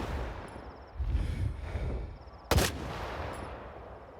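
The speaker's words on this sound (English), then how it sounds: "He's trying to snipe me with a shotgun?" Enemy shotgun fire in S.T.A.L.K.E.R. 2: Heart of Chornobyl, a single sharp, loud blast cracking out midway over low rumbling ambience, with a softer rumbling burst earlier.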